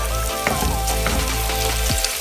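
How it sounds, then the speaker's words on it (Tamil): Curry leaves sautéed in ginger garlic paste for a pepper chicken masala give a steady, close sizzle and crackle with faint stirring scrapes throughout, and no one speaks. "போட்டு நல்லா இந்த இஞ்சி பூண்டு பேஸ்ட்டோடு வதக்கி விடணும்."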